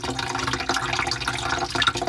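Water drains steadily from a hotel kitchenette sink, a continuous close gurgling and trickling wash with small splashy bubbles throughout, no voices.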